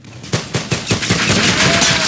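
A small gun fires in a video game as a rapid string of sharp, loud shots, close and fairly regular, which blur into continuous gunfire over about two seconds.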